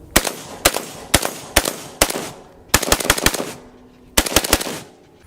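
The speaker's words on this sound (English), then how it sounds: "obviously going to demonstrate the AK-47" An AK-47 rifle fires outdoors in loud, sharp shots: several single cracks spaced apart, then quick bursts of four or five rounds, each with a short echoing tail.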